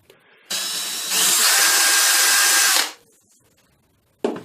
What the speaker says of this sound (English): If using a power driver, keep the driver bit in line with the screw to minimise the risk of jumping